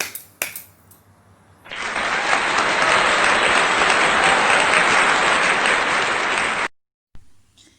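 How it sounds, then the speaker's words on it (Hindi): An audience at a Janmashtami poetry gathering breaks into loud, sustained applause for about five seconds, dense clapping that cuts off abruptly. "जोरदार तालियों से स्वागत कीजिए।"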